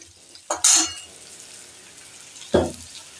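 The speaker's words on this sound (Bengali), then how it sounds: "এখানে আমি 1 চামচের মতন জিরে আর ধনে গুঁড়ো দিলাম। এটাকে সুন্দর করে আর নাড়াচাড়া করে দিলাম।" Cumin and coriander powder are stirred in a frying pan. Two short bursts of scraping and sizzling come from the pan, separated by a quiet gap.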